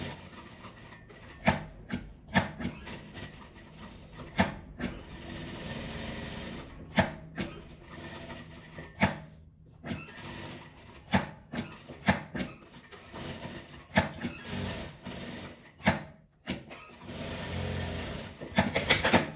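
A sewing machine stitches a felt-structured keychain pouch made from fabric scraps, its motor whirring in close, uneven bursts separated by brief pauses as the fabric is turned, with light rubbing of material between runs.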